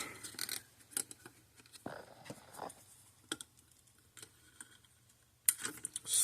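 Wire for a Zareba Blitzer fence charger repair is snipped with a few sharp, close cutter clicks, scattered between quiet handling noises and small ticks.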